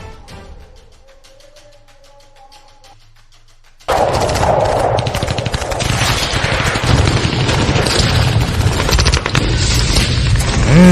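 A burst of gunfire sound effect erupts after a quiet stretch with a low hum, continuing as dense, loud, rapid shots and booms like a machine-gun fusillade to the end.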